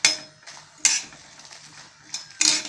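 Tamarind being dry-roasted for puliyodharai podi, stirred in a pan with a utensil, giving three or four sharp metallic scrapes and clinks against the pan, separated by quieter rustling, with no talking.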